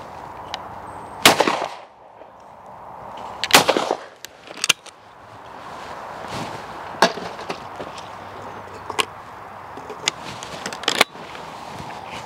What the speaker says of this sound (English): Let's shoot it.